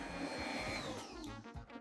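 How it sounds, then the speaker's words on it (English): An electric mixer fitted with a whisk attachment whirs steadily through orange drizzle cake batter, a constant buzzing motor hum with faint rattles of the whisk against the bowl, no talking. "I normally use the beater, but I'm going to try a whisk attachment."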